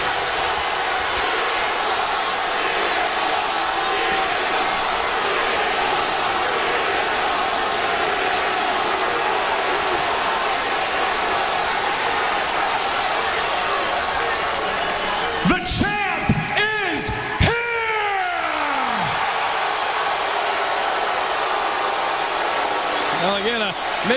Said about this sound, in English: Some are booing, some are cheering